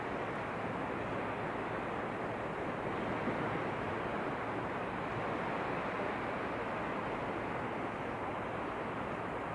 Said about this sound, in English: continue to soften your face to the rhythmic swirl of the waves